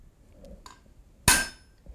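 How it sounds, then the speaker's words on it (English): A hammer strikes metal on the side of an anvil while a doorstop is forged: one loud, sharp metallic clank with a ringing tail, set among faint shop noises. "I'm going to put it on the side of the anvil and give it a smack"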